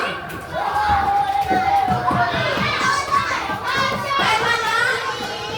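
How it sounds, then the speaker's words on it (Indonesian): Children in a third-grade classroom clap and cheer for a group during a science lesson, a lively crowd of young voices shouting over scattered clapping, close and fairly loud throughout. "Beri tepuk tangan untuk kelompok 2."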